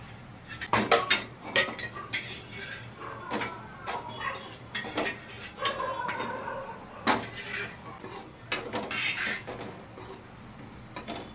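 Fried paneer goes into a curry in a pan, with close clinks and scrapes of a utensil against metal cookware and some soft stirring rustle, in irregular bursts.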